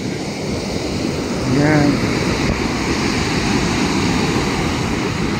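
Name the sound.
big ocean waves crashing on the shore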